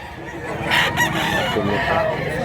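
A gamecock named Busing crows loudly and close at a rooster sale in Mantalungon, Cebu, one strained, drawn-out call with faint background noise.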